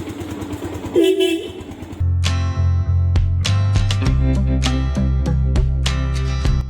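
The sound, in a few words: motorcycle engine running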